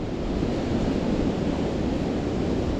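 Steady wind rushes across the microphone on a countryside walk near Ovington in Whittle Dene, a dense, continuous roar with no gaps or voices.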